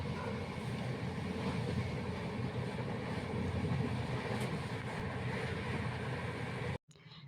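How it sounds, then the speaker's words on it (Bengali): Amritsar Mail passenger train runs along the line, a loud continuous rumble and rattle of wheels and carriages that holds steady throughout before briefly dropping out near the end. "আমাদের ট্রেন অমৃতসর মেল হাওড়া থেকে ছাড়লেও সন্ধ্যে ৭:১৫-তে।"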